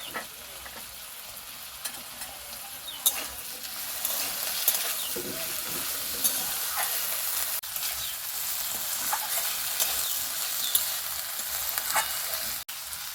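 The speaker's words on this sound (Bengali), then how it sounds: "আলুর সাথে খাড়িটাকেও আমি ভেজে নেব।" Potato pieces and drumstick stalks fry lightly in oil in a pan, a soft, even sizzle that holds steady throughout with faint occasional clicks and no talking.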